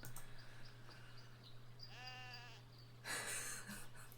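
A single sheep bleats briefly in the video game Barbie as the Princess and the Pauper, a short wavering call over a steady low hum, followed by a burst of brighter noise.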